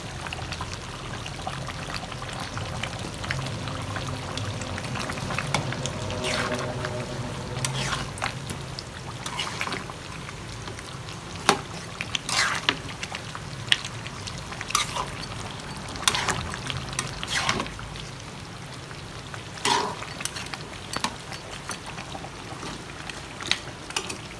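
Cumin tempering sizzles in hot oil while duck cooks, a steady frying hiss with scattered crackles and pops, close and continuous with no talk.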